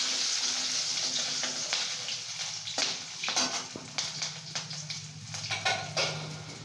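Whole garam masala (cinnamon, cardamom and cloves) sizzles in hot oil at the start of a Kashmiri pulao, a close, steady frying hiss with crackling spikes and occasional stirring, no talking.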